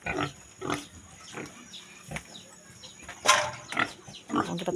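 Pig grunting in short bursts amid background farmyard noise, with several louder grunts and snorts spread across the moment at moderate distance.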